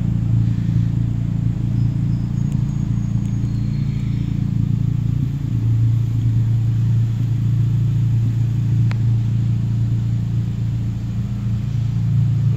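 A 2015 Honda Civic Si with an RV6 catted downpipe, N1 catback exhaust and Flash Pro tune sits idling, giving a steady low, throaty rumble that holds even and continuous throughout with no revving.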